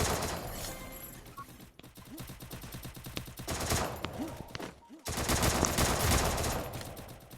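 Rapid automatic gunfire from the mobile battle royale game Free Fire, dense bursts of shots filling most of the clip with brief pauses, loud and continuous.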